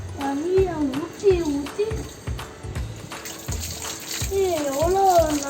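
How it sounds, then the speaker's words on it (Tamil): Water poured and splashing over a bicycle during cleaning, in uneven gushes, with a voice and other speech over it. "தண்ணியை ஊற்றி"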